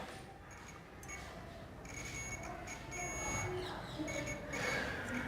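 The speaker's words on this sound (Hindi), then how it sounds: "देखिए बीप की साउंड आप सुन सकते हैं" An electronic tester beeps while checking a device and its wiring for faults. The high, thin tones come in short, steady bursts over a constant hiss.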